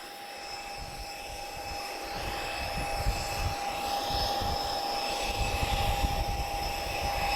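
Supermarine Spitfire with D-Day invasion stripes, restored and flying again since 2012, passing at the Portugal Air Summit airshow; a droning piston engine hum builds gradually, with a steady whine running through it and no talk.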